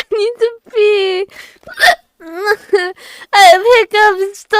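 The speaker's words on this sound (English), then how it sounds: "I have hiccups." A person hiccups repeatedly in sharp, voiced bursts with short gaps between them, mixed with excited talking and exclamations close to the mic.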